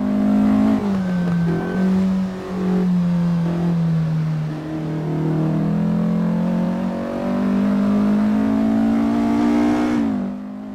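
A Porsche from the Assetto Corsa Porsche Pack II is driven in a racing game, its engine droning loudly and steadily through about ten seconds with pitch rising and falling as revs change, then swelling once more before a gear change.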